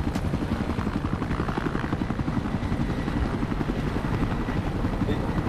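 A helicopter in the video game Battlefield Play4Free thumps with a steady, rapid rotor chop and a loud engine drone, close and constant with no talk over it.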